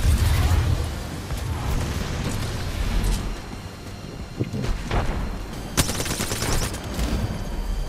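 Gunfire in the video game Apex Legends rattles out as dense, loud volleys of shots with sharp cracks and bursts layered over a rumbling low end, running nearly nonstop.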